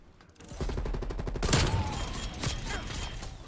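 M16 assault rifle fire in the video game Call of Duty Black Ops Cold War, a loud burst of rapid automatic shots that starts after a quiet half-second and runs continuously to the end, with some heavier impacts midway.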